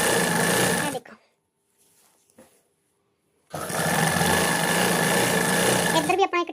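An electric sewing machine runs in two loud, steady bursts while stitching the side seams of a salwar, with a quiet pause of about two and a half seconds between runs.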